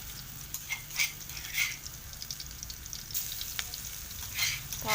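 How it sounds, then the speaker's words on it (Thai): Crushed garlic frying in oil over low heat, a steady close sizzle with occasional spoon scrapes and clinks against the pan as it is stirred, with no talk. "ใส่น้ำมันลงไปแล้วก็ ใส่กระเทียมที่เราตำนะคะลงไปเจียวนะคะ"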